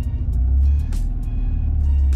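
A car creeps forward while parallel parking, giving a close low engine idle hum with brief bursts of hiss and rattle, steady and loud, while people talk in the cabin.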